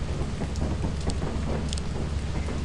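Heavy rain pours steadily in the space-horror game Lethal Company, a dense, constant hiss with a deep low rumble of thunder beneath it.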